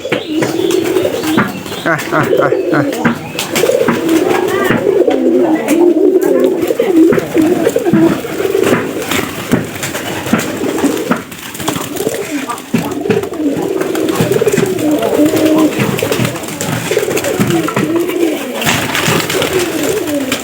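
Pet pigeons coo steadily and close by, a continuous throaty warbling that rises and falls over the whole stretch, with a voice talking intermittently over the birds.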